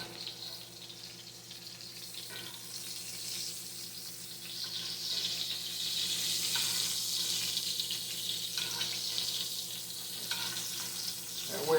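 Hamburger steak fries in oil with a steady, crackling sizzle that grows louder midway and holds, the spitting oil continuous and close with a faint background hum.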